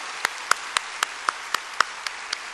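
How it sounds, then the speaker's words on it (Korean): Slow, evenly spaced single claps in a church congregation, roughly one every quarter second, distinct and moderately loud against a quiet room. "우리 크게 좀 박수 좀 해주세요."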